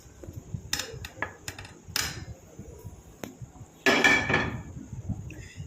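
Roasted homemade face pack powder tipped from a pan into a small bowl, with sharp metallic taps and scraping clinks in short bursts, then a denser rattle of the pan tapped against the bowl.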